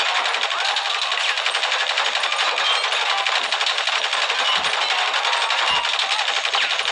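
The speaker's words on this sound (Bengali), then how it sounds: "দুইশোর কম হবে না যে আমি গুলি মেরেছি, তাও খোলা যাচ্ছে না এই দরজাকে।" Rapid automatic gunfire in a video game, fired repeatedly at a locked door, rattles on continuously at full volume with no pauses.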